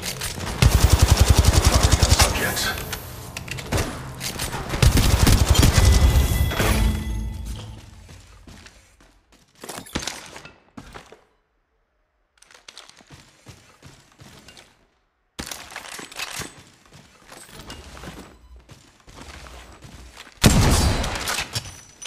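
Rapid automatic gunfire from Apex Legends, loud bursts of repeated shots in the first seven seconds, then sparser volleys and single shots separated by brief quiet gaps, ending with another loud burst.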